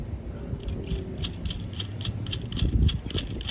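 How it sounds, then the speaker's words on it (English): A wrench tightens bolts on a sailboat lifeline fitting, giving a rapid series of close, sharp metallic ratcheting clicks in a rhythmic burst. "Lock these bolts down tight."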